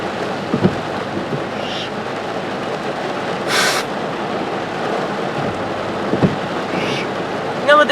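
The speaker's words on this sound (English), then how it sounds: "I don't want to go in yet, because this is really intense rain, man. Y'all hear it?" Intense heavy rain pouring steadily outdoors, a loud dense wash with occasional nearby taps, splashes and brief noise bursts, no speech.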